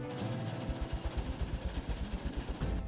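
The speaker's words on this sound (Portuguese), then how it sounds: "Essa máquina aí tem a função de triturar e separar." A construction debris crushing and separating machine processing rubble, giving a steady low mechanical rumble with rhythmic thumping pulses repeating through the run, fairly close and continuous.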